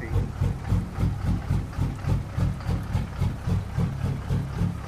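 A Peterbilt truck engine idles in a trucking video game. It makes a low, steady, rhythmic chug with even pulses, close and unbroken, with no talk over it.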